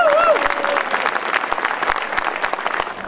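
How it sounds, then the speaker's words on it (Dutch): A crowd at an outdoor autumn fair applauds a paviour's statue's 65th anniversary, dense sustained clapping that starts loud and gradually thins, with a whistle near the start. "Ik wil graag dat u een groot applaus voor hun allemaal geeft"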